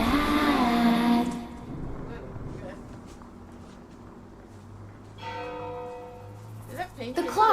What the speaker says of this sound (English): Every time you hear the clock chime, new rooms can be explored.